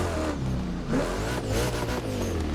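A Koenigsegg CCR engine in a racing video game revs and roars up and down through several accelerations, close and loud, with a slightly synthetic game-like tone.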